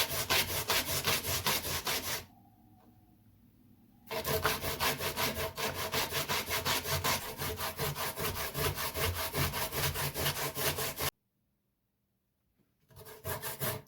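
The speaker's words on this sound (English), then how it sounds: "When you grate, remove all these lumps here, just remove." Coconut is grated by hand for coconut pumpkin dumplings, giving close, rapid rhythmic rasping strokes in two long runs separated by brief pauses, with a third run starting at the end.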